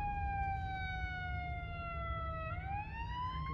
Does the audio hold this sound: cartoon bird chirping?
no